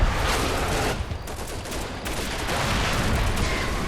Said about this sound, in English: as it gets hammered by artillery